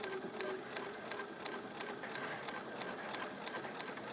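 A sewing machine stitches quilt blocks in the ditch, a steady rapid needle patter running continuously at moderate volume without any talk.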